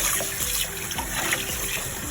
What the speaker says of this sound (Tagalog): banlawan na natin yung isaw